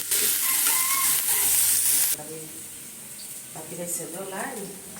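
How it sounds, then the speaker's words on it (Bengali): Bitter gourd and onions sizzle and fry in a pan, with a steady loud hiss that drops off partway through, then lighter crackling continues while someone talks over it. "করলা ভাজিতে পেঁয়াজ দিয়ে নিচ্ছি"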